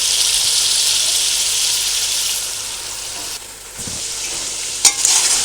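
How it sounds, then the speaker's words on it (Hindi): Chicken stir-fried in a pan for a quick biryani, a steady loud sizzle with occasional scraping stirs and a sharp clink near the end. "चिकन को मैं अच्छे से भून रही हूँ"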